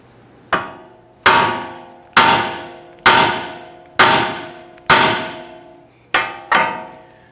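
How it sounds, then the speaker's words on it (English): Eight sharp, loud metallic hammer blows strike a steel steering knuckle on a 2011-2023 Dodge Charger to free the forward lower control arm ball joint, each ringing briefly before the next, evenly spaced and close up. "use our hammer and strike right here on our knuckle"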